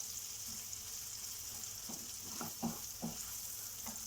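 Food frying in a pan for a high-protein low-carb meal, a steady faint sizzle with a few soft stirring scrapes near the end, no voices.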